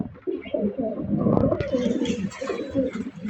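Racing pigeons in a loft coo softly and continuously, several birds layered in low, throaty murmuring close by, with a faint voice underneath.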